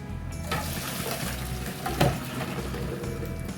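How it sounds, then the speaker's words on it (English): Hot water from boiled potatoes pours into a strainer in a kitchen sink, a steady rushing splash with a brief louder surge midway, heard alone without talk. "just take the boiling or boiled potatoes and then strain them"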